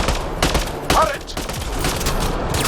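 Turret gunfire in the video game Mass Effect: Andromeda, a dense run of sharp, evenly repeating shots with game effects and music behind, loud and close throughout.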